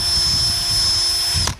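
Steady whirring power sander working 3000-grit wet sandpaper on a surface, a continuous close buzz with a bright whine that winds down and stops near the end.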